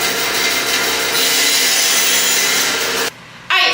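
A saw cuts through a wooden piece to leave a tongue for a woodworking joint. A steady, loud rasping cut runs for about three seconds, then stops abruptly, followed by a short burst of noise.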